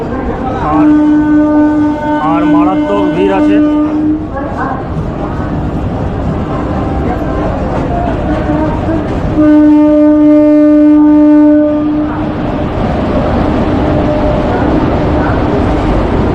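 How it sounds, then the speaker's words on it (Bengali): A train pulls into platform 2 at Patna Junction, sounding two long sustained horn blasts over the rumble of a busy, crowded station, with a person talking nearby. "আর এটাই হচ্ছে পাটনার 2 নম্বর প্ল্যাটফর্ম, যেখানে ট্রেন আমার রাইট টাইমে ঢুকছে।"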